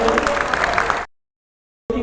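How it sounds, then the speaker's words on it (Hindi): Brief burst of audience clapping at a motivational talk, about a second of dense claps mixed with crowd noise before cutting to silence, then resuming abruptly at the end. "थोड़ा ताली बजाइए जो आ रहे हैं"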